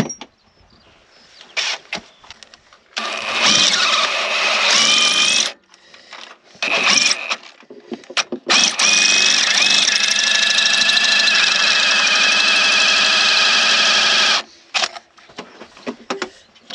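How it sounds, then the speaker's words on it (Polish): Power drill boring into metal while repairing a broken PTO shaft on a potato planter: several short whirring bursts, then one long sustained high drilling run, close and loud, with pauses between. "To z tej strony będę wiercił, nie?"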